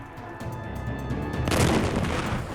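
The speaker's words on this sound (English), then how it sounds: "The North Vietnamese artillery in the mountains begins firing on Lang Vây Special Forces base." North Vietnamese artillery fires from the mountains on the Lang Vei Special Forces base, a deep rumbling boom swelling midway over a low noisy background.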